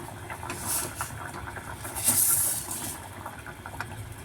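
Chayote boiling in a pot of water on a stove, a soft steady bubbling and hiss with faint irregular pops, quiet and close, no voices.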